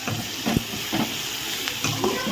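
Curry leaves, cumin and turmeric hit hot oil, giving a steady close sizzle with a few sharper crackling bursts spread across the short stretch, no voices.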